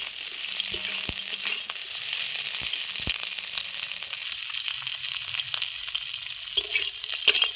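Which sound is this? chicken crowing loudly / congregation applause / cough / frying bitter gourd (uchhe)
frying bitter gourd (uchhe)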